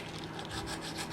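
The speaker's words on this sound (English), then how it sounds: "sand and smooth out the nose by sanding it" Sandpaper folded into an edge rubs briskly over the nose of a hand-carved wood spirit, a short, close, rasping scratch of abrasive on wood.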